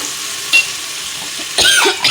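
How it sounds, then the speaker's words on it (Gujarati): Spices and turmeric tempering for a Gujarati khichdi, short bursts of hot-oil sizzle and stirring scrapes in a pan, loud and close with brief quiet gaps between them. "બધું આપણે એક સાથે જ વઘારવાનું છે. ઉપરથી આપણે હળદર નાખી દઈએ."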